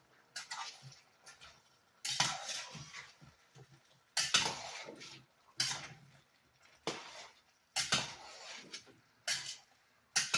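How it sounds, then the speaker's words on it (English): A spoon stirring beef stew in a pot makes a series of scraping, clinking strokes in an irregular rhythm, close and fairly quiet. "I'm going to give that a stir."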